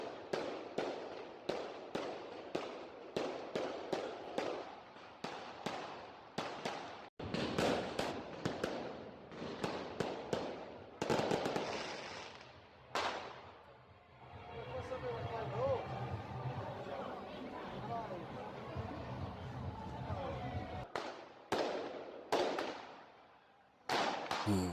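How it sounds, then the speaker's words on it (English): New Year 2025 fireworks over Pistoia, Italy, heard from a distance: rapid bursts of sharp cracks and bangs, then a long crackling, rumbling stretch before more scattered booms, with people talking throughout. "I decided to maintain a distance to get the full glare of the fireworks"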